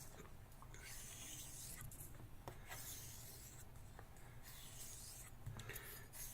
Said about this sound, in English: all I'm going to do with this is just hone this edge